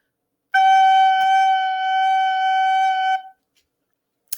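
A recorder holds a single G as a whole note for about three seconds, tongued cleanly at the start and sustained steadily at a moderate level before stopping, then silence.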